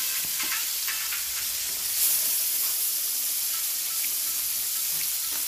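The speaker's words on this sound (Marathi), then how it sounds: "आता एक एक करून मी फ्राय करून घेणार आहे ही मच्छी." Saundale fish fry in hot oil, crackling and hissing loudly and steadily close by, with a few brief spatters and no speech.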